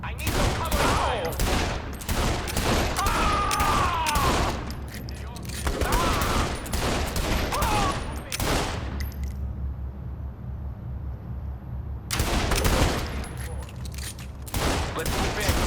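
Dense, continuous bursts of automatic gunfire from SWAT teams in the video game Saints Row The Third Remastered, with shouted character voices throughout and a short lull before the firing resumes.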